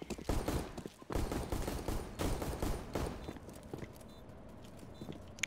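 Bursts of rapid gunfire in a tactical shooter video game crackle in dense volleys, loud and close, with short gaps between them and no talk.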